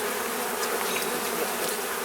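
Honey bees buzz steadily around an open beehive, a dense, continuous drone close by with no speech.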